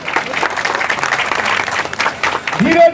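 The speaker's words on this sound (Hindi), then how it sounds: "जोरदार ताली बजाइए" Audience applause at a party induction and felicitation ceremony, a dense, loud burst of clapping that fills the whole moment with crowd noise mixed in.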